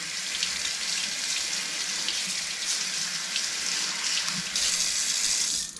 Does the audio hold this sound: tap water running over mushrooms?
yes